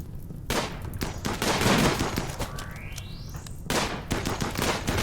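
Rapid gunfire rings out during a colony defense battle in the RimWorld video game, dense overlapping bursts of automatic fire with a sweeping rising tone partway through, loud and sustained with no talking.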